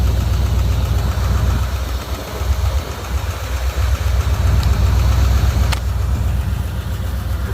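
A 1977 Ford F250 truck engine, untuned and running without electronic ignition, idles loud and close with a steady rumbling throb and slight uneven knock, unbroken for several seconds.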